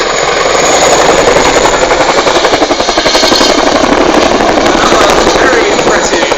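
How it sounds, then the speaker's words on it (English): An RAF Chinook twin-rotor helicopter flies a display at RAF Waddington, passing sideways with its rear ramp down. A loud, continuous engine roar runs throughout, with a steady, rapid rotor throb pulsing through it. "now the aircraft will be passing sideways down the line with the rear ramp down"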